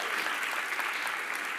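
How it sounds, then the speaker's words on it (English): A congregation at a church service gives a brief, dense round of applause, many hands clapping evenly at a fairly soft level with no talk. "Can you give a round of applause?"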